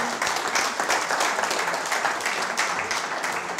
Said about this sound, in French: Bertrand Savant, on peut vous applaudir.